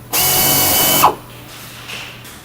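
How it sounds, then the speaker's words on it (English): A power drill with a 13/64 bit bores holes through the centre recesses of a urinal into the side panel of a static fleet toilet unit. It runs in one loud, whining burst of about a second, then cuts off, leaving only quiet room noise. "using a 13/64 drill bit, drill 2 holes through the center"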